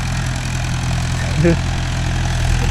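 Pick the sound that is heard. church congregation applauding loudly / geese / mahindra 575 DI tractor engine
mahindra 575 DI tractor engine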